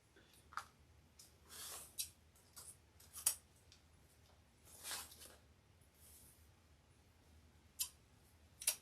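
Scissors snip through folded wreath material for a Valentine's ice cream wreath, giving quiet, close, irregular cutting clicks and rustles with short pauses between, no talking.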